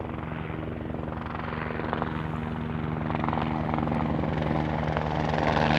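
A helicopter drones steadily overhead in the Simpson Desert outback, its rotor thump and engine whine growing gradually louder as it passes low and close.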